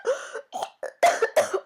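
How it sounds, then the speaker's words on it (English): A woman gives a string of harsh, performed coughs and choking gasps, about five bursts close together with short gaps, loud and near. "She gagged, choked, and coughed terribly"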